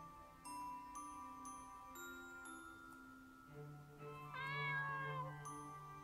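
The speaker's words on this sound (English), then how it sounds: "I'm just gonna follow this cat." Cartoonish cat meows from the video game Hoven the Sage's Spinel, a couple of rising, pitched calls set over a steady tonal musical backdrop, clear and fairly close with no talking.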